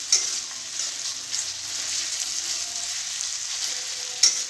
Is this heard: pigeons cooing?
no